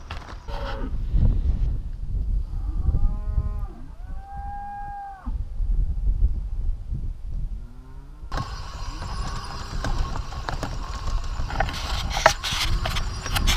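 Cattle on a ranch in Mexico moo repeatedly in long, drawn-out calls, some close and loud and others overlapping, over rustling outdoor background noise and shuffling.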